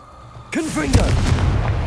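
The Confringo fire spell in Hogwarts Legacy erupts with a sudden loud burst and a sharp crackling blast, followed by a sustained roaring rumble under a brief voice.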